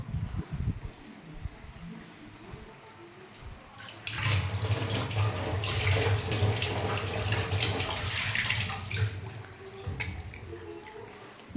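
Tap water running into a sink during washing up, a soft trickle swelling to a full steady gush for several seconds before easing back, with light clatter around it.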